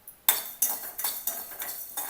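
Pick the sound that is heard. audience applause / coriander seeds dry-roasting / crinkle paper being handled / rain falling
coriander seeds dry-roasting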